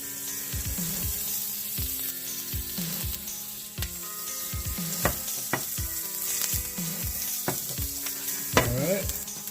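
Butter sizzles and fries on a PK Grill, a steady close crackle with repeated scraping stirs and occasional clinks. No voices are heard.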